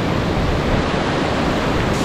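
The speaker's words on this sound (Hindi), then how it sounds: "ये भी है एक छोटा सा झरना" A small mountain waterfall beside the road to Zemithang in Tawang rushes in a loud, constant broadband roar, close by, with no voices over it.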